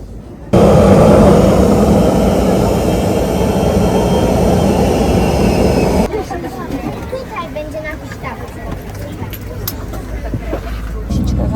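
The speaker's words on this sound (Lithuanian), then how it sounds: "esam jau lėktuve ir turėtų jau maždaug neužilgo kilti" A steady jet engine roar fills an airliner cabin before takeoff, then settles into a quieter rumble with light clatter and movement.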